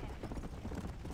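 Horse hooves clip-clop steadily beneath game music and background noise in Red Dead Redemption's zombie Undead Nightmare mode, with a fast, continuous rhythm at moderate level.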